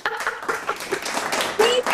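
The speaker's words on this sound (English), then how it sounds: "let's give you some round of applause" A brief round of applause from a small group at a talk-show style conversation, a few close claps patting out over about two seconds with voices mixed in.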